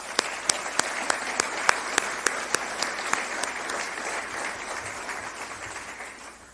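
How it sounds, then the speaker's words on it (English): Loud applause from a town hall crowd, with sharp individual claps standing out at first, then settling into a steady, dense wash that fades slightly toward the end. "Please give them a huge round of applause"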